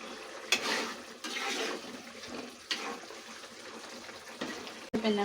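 Pot of gongura and dried shrimp curry bubbling on the stove, a steady watery simmering hiss with several sharp stirring or lid clatters, close and fairly loud, no speech.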